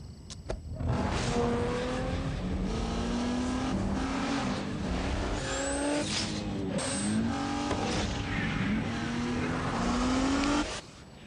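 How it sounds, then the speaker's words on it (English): A 265-horsepower Nissan Maxima engine accelerates, its tone climbing steadily in pitch with gear-like steps, loud and continuous for about ten seconds with no talking. "The 265 horsepower Nissan Maxima."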